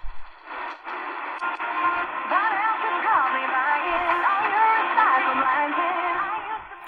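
AM broadcast from 630 CFCO Chatham, Ontario, picked up on an Ongteed BL-106 portable radio, carrying faint warbling tones and muffled sound through a band-limited hiss of distant reception.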